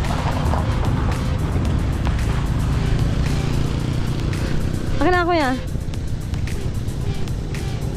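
A motorized tricycle engine idling with a steady low rumble throughout, close by, while a person speaks briefly over it.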